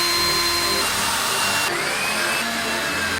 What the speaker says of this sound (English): Now I want to drill down from the top so that it secures it just a little bit better.